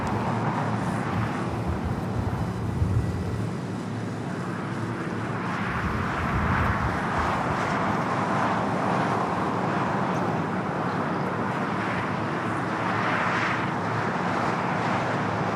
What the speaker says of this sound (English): is a Delta A350-900 heading to Atlanta, flight 327 that lined up on the 24 left